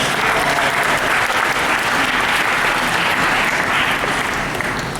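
Audience applause at a Power Morphicon 2012 fan convention panel, a dense, steady wash of many hands clapping from a large crowd, loud and sustained throughout without letup.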